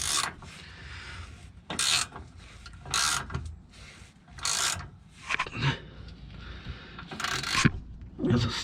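Wrench working a stiff nut on a car's front anti-roll bar bolt, a series of sharp ratcheting bursts and scraping clicks in uneven rhythm, close and fairly loud between quieter pauses.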